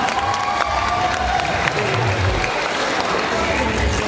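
Loud, continuous applause and cheering from a comedy show audience, steady dense clapping with crowd noise throughout.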